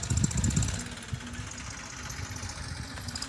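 A tractor-driven manure spreading machine runs on a farm, its engine giving a steady low mechanical drone with a heavier rumble at the start, continuous and moderately near.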